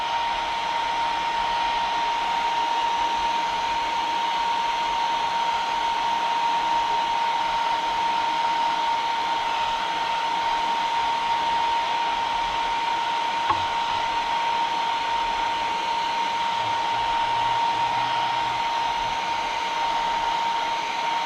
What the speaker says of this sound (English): That's why I use the heat gun.